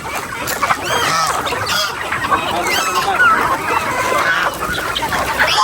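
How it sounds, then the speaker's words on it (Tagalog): Farm hens cluck and chatter together with a rooster among them, a dense, steady flock noise with many overlapping calls, fairly close and continuous throughout. "may barakong manok dyan"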